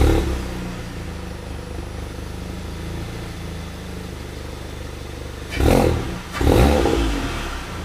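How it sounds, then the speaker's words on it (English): A Volkswagen Mk7 GTI's engine fires up after a spark plug change (one step colder plugs): low steady running, then two loud bursts of revving near the end before settling back. "I'm gonna go ahead and start the car."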